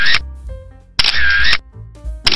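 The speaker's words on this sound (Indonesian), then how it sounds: "Mau cekrek cekrek cekrek cekrek motret biasa." Camera shutter clicks from a single-lens reflex camera, taken during a Saturday morning outing at a bike park: three or so sharp, loud bursts spaced about a second apart, with no voices.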